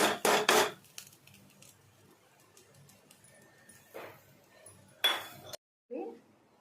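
Dal being stirred into spinach in a metal cooking pot for bachali kura pappu, giving a few loud scraping, clinking strokes at the start, then quieter rubbing and another burst of clatter near the end.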